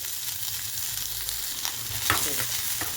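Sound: onions frying in oil

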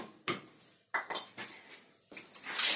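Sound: adding a little oil to a frying pan

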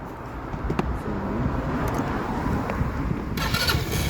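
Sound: motorcycle engine being started

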